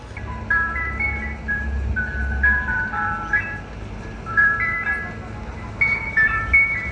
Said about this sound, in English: A rather spooky ice cream truck is waiting next to TuneTech